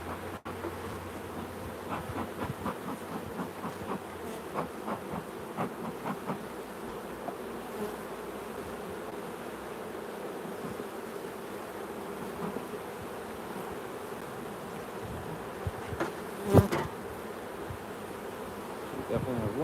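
Honey bees buzz around an opened beehive during an inspection, a soft steady hum close by with scattered clicks and handling knocks, one louder thump near the end.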